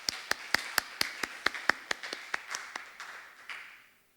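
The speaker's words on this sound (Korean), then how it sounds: "모두 박수로 환영하도록 하겠습니다." A small church congregation at a youth Sunday service claps in welcome for a pastor: a quick run of sharp, distinct claps, fairly close, that thicken briefly into scattered applause before fading to silence.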